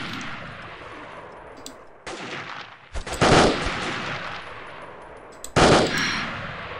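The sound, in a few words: bullets whizzing past and gunfire in Delta Force: Land Warrior video game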